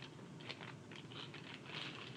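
A plastic bag crinkles and rustles in quick, irregular bursts as dice are pulled out of it, faint and close with no talk.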